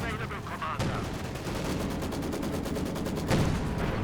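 Fast, evenly spaced rattling of Flak Panzer autocannon fire in Company of Heroes 2, a continuous burst over battle noise, moderately loud.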